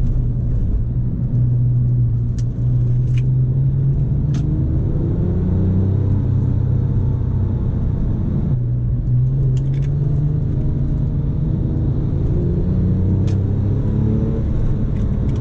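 A Porsche 997 Turbo on the road gives a loud, steady engine rumble heard from inside the car. The pitch rises as it accelerates, drops at a gear change, then climbs again.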